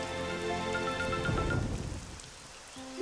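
Steady rain pattering on surfaces in a children's dinosaur cartoon, a dense continuous patter that thins out toward the end, with tonal music running underneath.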